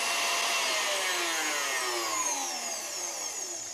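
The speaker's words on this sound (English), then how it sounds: "Let that whisk now for about 5 to 10 minutes until it's thick and has cooled down." An electric whisk beats cooking egg yolks for a vanilla custard, giving a steady, loud whirring hum that slowly drops in pitch as it runs on alone, with no voices.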